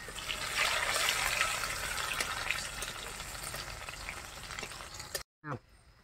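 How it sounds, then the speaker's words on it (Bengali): Finely chopped onions fry in hot oil with a loud, dense, continuous sizzle close by, fading slightly before a sudden brief cut-off near the end, with no talking. "কিছু কুচি করা পেঁয়াজ দিয়ে দেবো, ছোটো ছোটো করে কাটা। একটুখানি ফ্রাই হলেই আমরা মশলাগুলো দিয়ে দেবো এখানে।"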